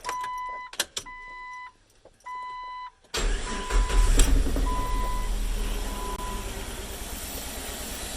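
A Jeep Wrangler TJ with a newly replaced fuel pump gives a few short electrical whines and clicks as the key turns, then the engine cranks and catches into a loud, steady idle that settles gradually.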